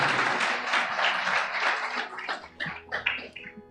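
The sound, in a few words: congregation applauding in church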